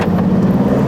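A 2023 Aston Martin Vantage F1 Edition accelerating hard, a loud steady engine drone filling the cabin with no clear gear-shift break in this brief moment.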